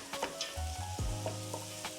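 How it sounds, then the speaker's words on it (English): Onions sizzle softly in melted butter in a pot for pilau, with faint stirring scrapes and light crackles, close and quiet. "once your butter has melted, you can add your onions in"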